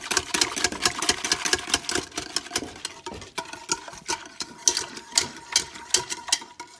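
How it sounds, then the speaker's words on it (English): Homemade Greek yogurt is whisked smooth in a bowl with quick, rhythmic clicking and scraping strokes. The strokes come close and fairly loud in uneven bursts, with no talking. "So you whisk it."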